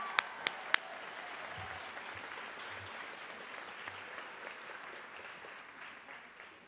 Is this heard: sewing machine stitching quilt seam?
no